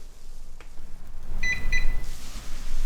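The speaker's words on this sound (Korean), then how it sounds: "삑삑 소리 나는 거 들으셨죠?" EV charger card reader giving two short, clear electronic beeps as a phone is tapped on it, mid-level against a low background hum with some handling noise.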